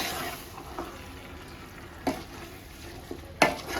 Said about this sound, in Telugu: ప్రతి ఒక్క ముక్కకి ప్రతి ఒక్క స్పైస్ కూడా అంతే విధంగా నీట్గా కలుపుకోవాలి.